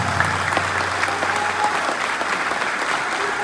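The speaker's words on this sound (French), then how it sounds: "Je vous demande de l'applaudir très fortement," An audience applauds steadily and loudly at a Kemi Seba conference in Limonade, Cap-Haïtien. The dense clapping holds without a break for several seconds.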